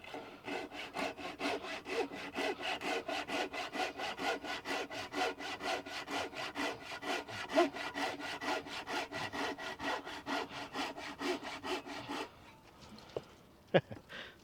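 A hand saw cutting wood for an axe handle in quick, even back-and-forth strokes, close and steady, ending with a few scattered knocks and scrapes.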